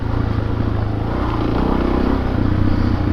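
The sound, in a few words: Suzuki DRZ400S motorcycle engine revving while riding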